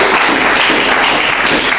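Church congregation applauding and cheering for the Lord, a dense, loud, continuous burst of clapping with shouts mixed in, close and filling the room.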